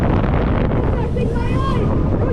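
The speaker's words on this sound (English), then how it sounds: "There's so much wind, it's hard to breathe with your mouth open." Loud, roaring wind buffets the microphone continuously on a roller coaster ride, a dense rushing noise with a faint voice barely audible beneath it.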